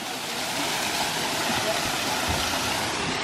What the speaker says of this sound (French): Le fameux bruit qui dit qu'on se rapproche de la cascade